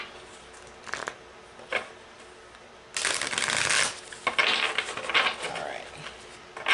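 Tarot cards being shuffled by hand in repeated riffling bursts, with short taps early on and a longer, louder run of dense card flutter midway.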